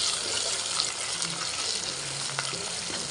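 Potato pieces and onions frying in a pan for tomato rice give a loud, continuous sizzle close by, with a few faint stirring scrapes underneath.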